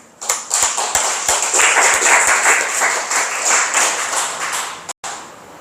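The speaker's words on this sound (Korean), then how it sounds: "박수를 한번 치십시오." A church congregation at a Korean Sunday worship service claps together in dense, steady applause for about five seconds before it stops abruptly.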